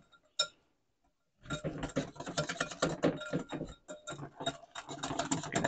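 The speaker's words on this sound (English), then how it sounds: "Give it a good whisk." Rapid rhythmic clinking of a whisk beating a yogurt dressing in a bowl, starting after a single tap and a brief pause, then a continuous close, fairly quiet clatter.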